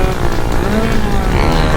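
Sherco big bore motorcycle engine revving hard to high rpm while climbing uphill, a loud, close, continuous buzzing roar with rising harmonic tone throughout the short stretch.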